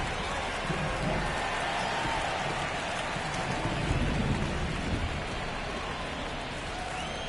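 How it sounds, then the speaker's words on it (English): Steady rain pours over a baseball field during an MLB The Show 23 game, a dense continuous hiss filling the whole moment at even loudness, with no voices heard. "the field's not going to be able to hold up if the rain gets any worse than this"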